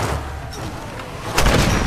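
Gunfire in the Tomb Raider video game: a dense, continuous wash of shots and blasts, with a louder burst of impacts near the end.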